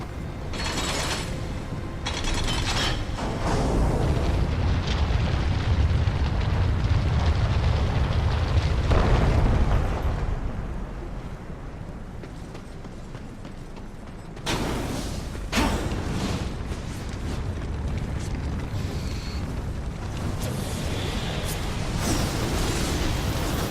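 A string of chained bomb explosions in the video game Darksiders, loud booming blasts and rumbling debris with mechanical clanks and creaks, dropping to quieter rumble midway before another burst of blasts.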